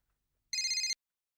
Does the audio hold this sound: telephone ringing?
yes